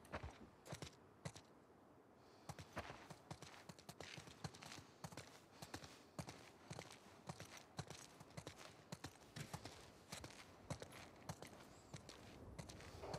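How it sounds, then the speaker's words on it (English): Horse hooves clip-clop steadily in The Last of Us Part 2, a continuous walking rhythm of sharp, close hoof strikes on a hard surface with faint background ambience. "Let's get back to the horses."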